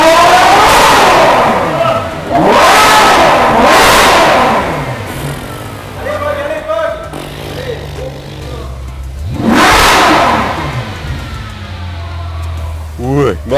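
Ferrari 812 Superfast with a front-mounted V12, revved hard in bursts outdoors, each sharp rising scream falling back to idle, loud and close, with a voice talking between the revs.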